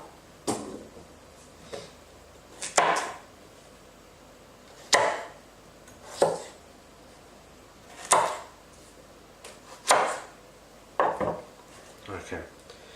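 A knife being tested for edge geometry cuts cleanly through food, with a string of about nine sharp chopping strikes at uneven intervals, close and clear with no talking.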